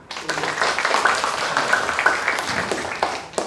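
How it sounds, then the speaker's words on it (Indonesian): Applause from a crowd at a Training of Trainers workshop for Indonesian Red Cross youth (PMR) members, a steady dense patter of many hands clapping that carries on evenly for a few seconds without talk. "Sekali lagi, tepuk tangan."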